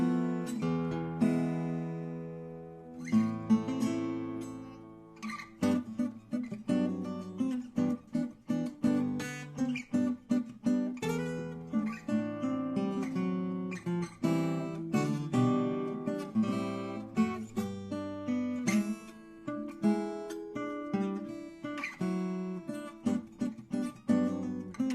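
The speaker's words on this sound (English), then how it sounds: "how you make a little teeny guitar sound like this" A small size-2-ish parlor guitar is played solo, with picked notes and strummed chords in a lively, varying rhythm, close and moderately quiet.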